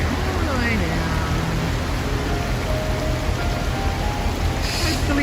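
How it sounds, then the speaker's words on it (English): Heavy rain falling in Cairns, a dense continuous hiss of downpour that stays loud and even throughout, with faint passing tones and voices mixed in underneath. "Action with all the rain that's happening now, all the way down."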